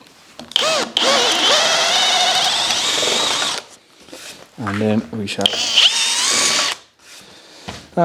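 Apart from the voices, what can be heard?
power drill boring hole in walnut board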